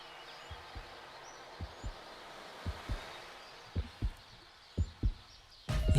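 A human heartbeat as a regular series of soft, low, paired thumps that grow slightly louder, with faint birdsong in the background and a louder rustle at the end.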